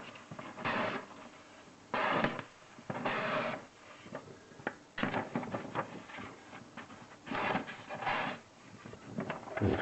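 A Boker Plus Kwaiken flipper knife slices through plain printer paper in repeated dry, rasping cutting strokes, steady and close without talk.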